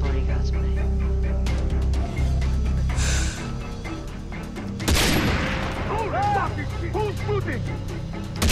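Gunfire bursts in the shooter game Far Cry 3, a dense volley of shots with a loud blast near the middle, heard alongside a talking voice and game sound.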